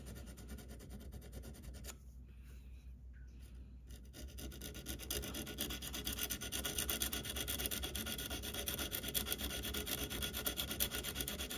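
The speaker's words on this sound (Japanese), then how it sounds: "ヤスリでね、ヤスリで加工していけばいいかなと思います。" Hand file rasping on metal while shaping a tiny triangular wood-carving knife, a close, continuous scraping stroke sound with a short quieter pause before the filing resumes more strongly.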